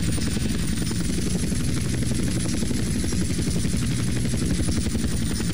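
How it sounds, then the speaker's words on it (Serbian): A helicopter in GTA San Andreas multiplayer drones with an even, loud rotor thump and engine whine, continuous and close, with no voices heard. "hajde uđi u helikopter, dođi vamo"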